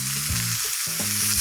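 New York steak searing in a hot pan, a loud continuous sizzle over a low tonal hum that shifts in pitch.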